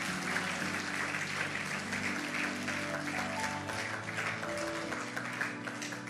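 A church congregation applauds during a prophetic preaching service, a dense sustained clapping that fills the room evenly for several seconds with a faint musical hum underneath and no clear speech.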